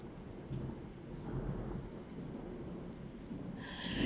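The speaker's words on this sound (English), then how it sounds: "It's thundering." Low thunder rumbles through a steady rain, a deep rolling swell under the constant patter, with a brighter burst of rain noise near the end.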